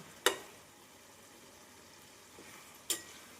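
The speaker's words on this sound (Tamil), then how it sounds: "புளி சேர்த்து இந்த அளவு நன்றாக வதங்கவும்" Onion pickle with tamarind sautés quietly in a pan, a faint steady sizzle broken by two sharp clinks of a spoon against the pan, one near the start and one near the end.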